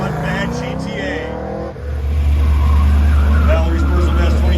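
A GTA sports car launches at the start of a shootout: a voice talks at first, then the engine bursts into a loud, sustained deep roar as it pulls away close by.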